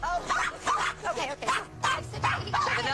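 Dogs inside a house give a run of yapping, whiny barks in quick bursts of roughly one per half second, close and fairly loud, mixed with voices.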